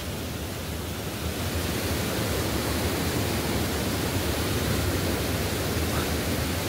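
Water rushes and roars loudly and steadily during heavy rain, a dense broadband wash that stays constant and close throughout.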